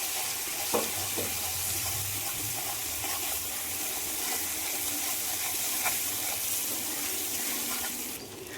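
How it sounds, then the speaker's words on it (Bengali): Ground spice mix of salt, fennel powder and dried red chili powder frying gently in a pan, a steady close sizzle with a few soft clinks and scrapes, no talking. "মশলাগুলো হালকা হাতে ভেজে নিচ্ছি"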